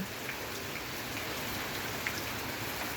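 Light drizzle falls over a village field: a faint, even patter and hiss of fine rain that holds steady throughout, with no one speaking.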